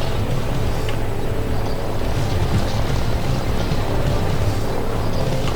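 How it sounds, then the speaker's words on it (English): Several helicopters fly a sortie in the strategy game Line War, making a steady, loud, dense rotor roar that holds throughout with no pauses and no voices over it. "That's a big helicopter sortie."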